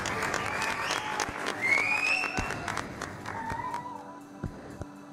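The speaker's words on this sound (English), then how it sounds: "I think you need a round of applause for that." A round of applause during a live on-air black and white creation session, scattered claps and taps with a faint whistle-like tone, fairly quiet and thinning out toward the end.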